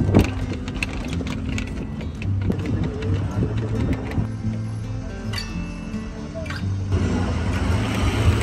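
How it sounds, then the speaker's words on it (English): A jeep grinds along a rough back trail near Petra, its engine rumbling steadily beneath rattles, clinks and jolts from the bumpy ground, loud and continuous throughout. "we just took like a 20 or 30 minute Jeep ride through like an insane trail"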